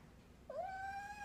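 A single cat meows once from inside a bag, a short, quiet, rising then steady cry that follows a moment of near silence.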